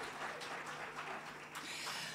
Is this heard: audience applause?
yes